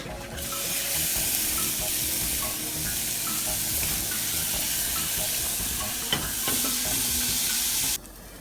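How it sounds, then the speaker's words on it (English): Garlic and onions sizzle loudly and steadily in a hot pan, with stirring scrapes and a clink along the way, before the sizzle suddenly drops near the end. "So now our garlic's starting to get a little cook on it. Add our onions."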